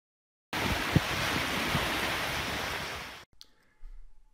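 Floodwater rushes through a culvert toward Kiltartan in the Slieve Aughty area, a loud, steady broadband roar of water lasting about three seconds before cutting off abruptly, followed by faint low rumbles.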